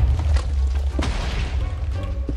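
TNT blows up in the Minecraft video game, with deep booming thumps rumbling close and loud in quick succession across a couple of seconds, with no talk.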